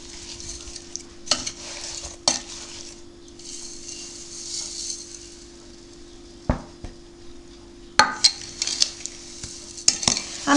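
Apricots, lemon juice and sugar stirred gently in a pot for jam, with soft scraping and sloshing under a low steady hum, punctuated by a few sharp utensil knocks against the pot.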